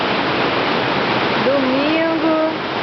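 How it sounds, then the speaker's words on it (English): Rushing water from a waterfall in Rio de Janeiro pours in a steady, loud, broad roar, with a voice speaking briefly over it partway through. "The sound of rushing water filled the area"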